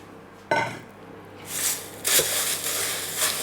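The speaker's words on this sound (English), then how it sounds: "So there's 100 grams of cornflakes going in here." Cornflakes tipped into a pan of melted butter and syrup make a rattling, crunchy scrape, with clattering pan and utensil knocks in a few quick bursts close by.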